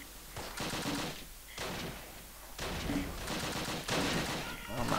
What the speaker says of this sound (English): Okay, we've already taken fire.